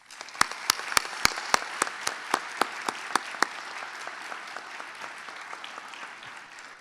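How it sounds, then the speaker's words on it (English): Dental students and guests applaud at a dental school white coat ceremony. A few loud, sharp, closely spaced claps stand out near the microphone over softer, more distant crowd applause that gradually fades. "Students, please join me in a round of applause for Dr. and Mrs. Rosenblum and the Upper Mid"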